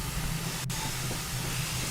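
Steam tank engine in the Train Sim game on the West of England Main Line, heard as a loud, continuous hiss of steam over a low rumble, steady throughout with no distinct chuffs.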